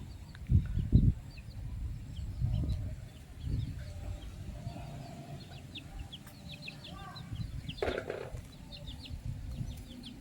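Thai fighting roosters cluck and call in a farmyard, with close scuffling and some brief wing noise, plus scattered bird chirps in the background.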